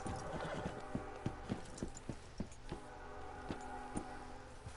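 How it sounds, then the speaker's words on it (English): A horse in Red Dead Redemption 2 clip-clops up at a walk, its hooves thudding in an uneven rhythm close by, with a brief whinny over a steady outdoor game ambience. "I like how my horse has just wandered up."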